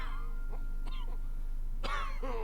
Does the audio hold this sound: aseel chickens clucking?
no